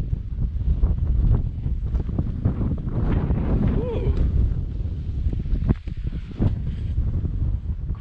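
Gusty wind buffets the microphone during a small-aircraft flight to the Zollner Hütte, a steady loud roar with bursts throughout, and people talk intermittently over it.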